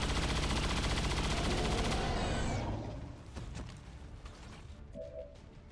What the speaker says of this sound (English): Now to shoot the Berserker.